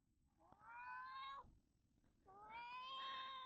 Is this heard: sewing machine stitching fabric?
no